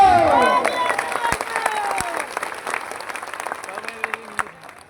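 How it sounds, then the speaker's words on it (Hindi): Crowd applause at an outdoor political rally at a college, scattered clapping and cheering from a large gathering beneath a voice at the start, thinning out toward the end. "बात समझ में आती है तो ताली बजाओ"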